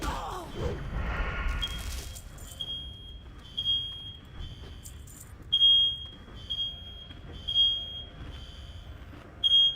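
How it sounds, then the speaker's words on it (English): A smoke detector shrills with its high-pitched alarm, repeating beeps in loud bursts against a quiet indoor background. "that's my fire alarm going off."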